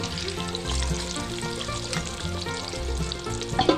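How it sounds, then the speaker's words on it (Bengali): Potatoes sizzle and crackle steadily in hot oil for a chicken curry, a close, continuous frying hiss with occasional soft pops. "এবার চিকেনের ভিতর যে আলুটা দিতে হবে সেটা আমরা এখন ভেজে করে উঠিয়ে রাখবো"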